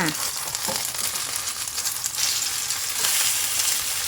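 Luffa batter fries in a hot pan with a bright, dense sizzle that swells as the pieces are turned, with brief scraping of a spatula against the pan.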